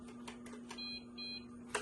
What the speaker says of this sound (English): you'll hear 2 beeps